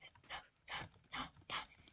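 A dog in the Minecraft video game whimpers in four short, high-pitched whines spaced roughly half a second apart, close and fairly quiet with no talking over them.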